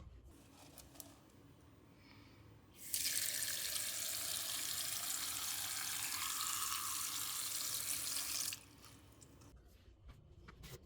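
Tap water rushes steadily for about five seconds, rinsing off a batch of tumbled rocks in a sink, then cuts off, leaving quiet room tone on both sides.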